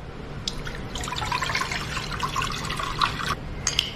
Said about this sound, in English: we're going to add about 3 cups of hot water